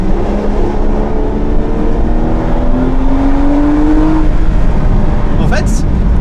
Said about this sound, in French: je la pousse un peu pour écouter le moteur